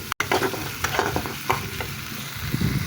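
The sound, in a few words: spice paste with ginger being stir-fried in a pan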